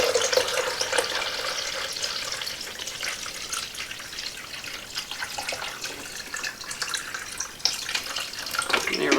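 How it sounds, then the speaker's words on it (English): Water mixed with vinegar poured from a jug into a coffee maker's reservoir, a continuous trickling splash of steady moderate level lasting about nine seconds with no talk. "We're going to pour this in as if we were making a pot of coffee."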